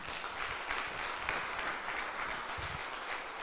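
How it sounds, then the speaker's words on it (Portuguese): Church congregation applauding, a steady dense wash of clapping from many hands for a few seconds with no clear talk. "Aplauda o Senhor."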